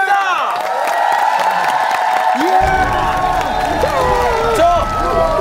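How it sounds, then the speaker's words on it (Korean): Studio audience on the Korean variety show Star King applauding and cheering a successful challenge. Lively clapping mixes with whoops and excited shouting voices at a loud, steady level throughout. "다시 한 번 더 박수로서 성공을 축하드리기 바랍니다"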